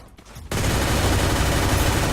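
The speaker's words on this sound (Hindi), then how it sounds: "M60 भी बहुत ही तगड़ी चलती है" An M60 machine gun in a shooting video game opens up after a brief quiet start and roars in a dense, continuous, loud stream of gunfire to the end.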